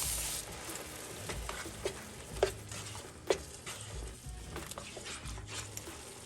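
Tomato puree sizzles softly in a pan while being stirred, a quiet frying hiss broken by a few sharp scraping knocks of the spoon.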